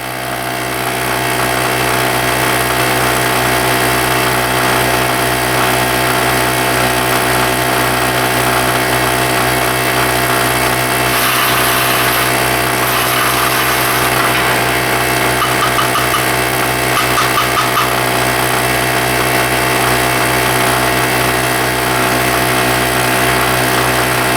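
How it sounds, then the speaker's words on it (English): An old, struggling air compressor drones loudly and continuously for the whole stretch, with a steady mechanical hum and vibration and no speech. "old air compressor, so it's struggling to do the job for me, but it's doing it"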